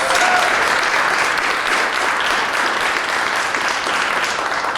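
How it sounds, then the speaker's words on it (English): Clapping comes through a WebEx video meeting during a campus awards ceremony for years of service, a loud, continuous, dense wash of applause with no break across its length. "I just get mesmerized with all of the clapping going by in the WebEx meeting."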